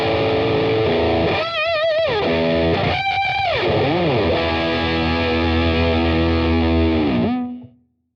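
Electric guitar played through a Fender Champion amp on a 70s British distortion setting with the gain cranked up, heard alone as a loud, saturated run of chords and bends sustaining steadily before fading out at the end.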